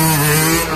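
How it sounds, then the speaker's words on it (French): A motorcycle engine revs hard and continuously during a wheelie, a loud, buzzing drone with a steady pitch that eases slightly toward the end of the brief burst. "j'entends le bruit de ta moto"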